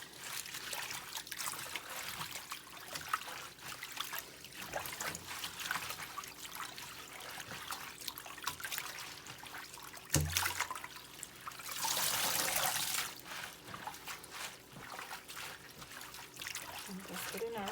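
Tap water runs and trickles while collard greens are washed by hand, a steady close splashing stream with louder gushing bursts partway through.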